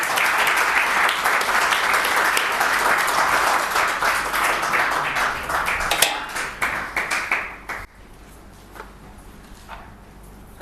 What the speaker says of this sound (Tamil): உற்சாகமாக எல்லாரும் ஒரு பெரிய அளவில் ஒரு கைத்தட்டி நம்ம போதைகளை நம்ம ஆரம்பிக்கலாம்